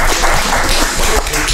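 Audience applause for a professor at a 2023 Jeollabuk-do small-business revitalization workshop: a dense, steady wash of clapping fills the room at a fairly loud, even level for the whole moment, with no talking on top.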